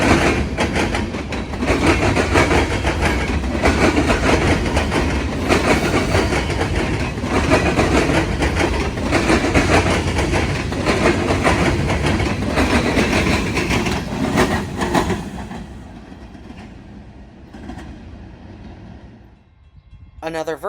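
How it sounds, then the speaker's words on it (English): Norfolk Southern local freight L38 rolls northbound on the Sandusky District near Marion, Ohio: a loud, steady rumble with rail clatter that holds for about fifteen seconds, then drops away to a fainter fading roar. "Norfolk Southern local freight L38 would return, but this time heading northbound"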